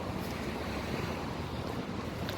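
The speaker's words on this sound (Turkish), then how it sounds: "Ama serin serin havada esiyor çok güzel." Cool breeze blowing outdoors on a warm day, a steady loud rush of wind buffeting the microphone throughout, no talking.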